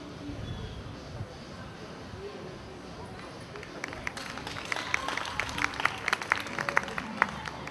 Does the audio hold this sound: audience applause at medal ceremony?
yes